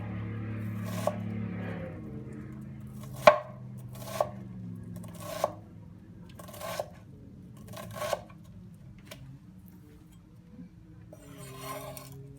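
Potatoes being sliced with a knife on a cutting board for German potato salad, a short run of crisp, evenly spaced chops that ring out close and distinct against a quiet room.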